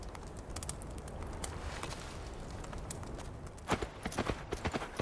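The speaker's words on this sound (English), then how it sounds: "Your horse seems rejuvenated." A horse's hooves clip-clop at a steady walking pace in the Fable: The Journey game, moderately close, with the beats growing sharper and more distinct near the end.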